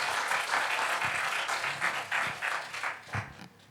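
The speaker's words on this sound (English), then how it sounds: "Please join me giving them a big round of applause" A conference audience claps for panelists at an India-Japan intellectual conclave, a loud, sustained round of applause that thins out and fades toward the end.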